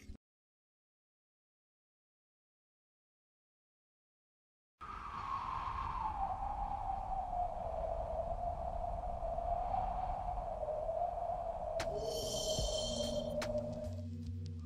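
Silence for several seconds, then a steady airy drone with a slowly falling hollow tone, like soft wind, added as subtle atmospheric sound design, joined near the end by faint high chirps.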